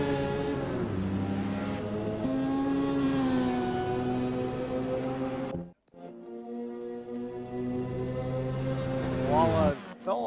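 Mazda rotary race cars at Mount Panorama in a racing game, a steady high-pitched engine drone with shifting tones, a brief dropout midway, then revving picks back up, with a voice talking over it.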